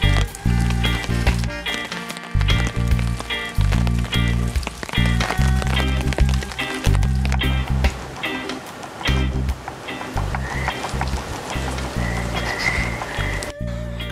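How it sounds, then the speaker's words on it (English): Steady rain patters down on a hammock camp during a backpacking overnighter at Castle Rock State Park, a dense continuous wash with irregular nearby drips and taps throughout. "I honestly thought that the rain would stop this afternoon, but it's coming down right now pretty good."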